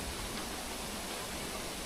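A brief gust of strong wind sweeps through bamboo at a revered tomb in Majalengka. The rustle is a steady, broad, close-up hiss with no speech over it.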